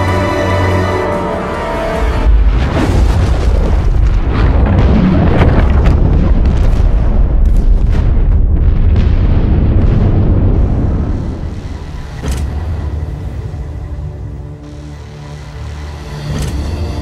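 Loud cannon fire explosions erupt in a heavy, rumbling barrage that swells and then thins out, with sharp separate blasts near the end and no talking over it.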